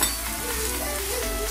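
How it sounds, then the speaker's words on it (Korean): Fried chicken stir-fried in kkanpunggi sauce in a wok gives a loud, continuous, hissing sizzle throughout, with no voices. "치킨을 같이 이 소스에 볶아줍니다"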